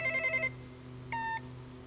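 Two bursts of a telephone ringtone, a longer warbling ring and then a shorter one after a pause, in a quiet room with a steady low hum underneath.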